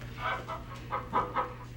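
A chicken clucks in a short series of four or five close, soft calls over a steady low background hum.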